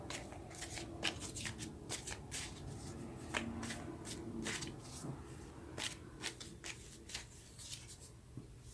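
Tarot cards being shuffled and drawn up close, with quiet, crisp riffles, flicks and taps of card stock scattered irregularly over a soft background.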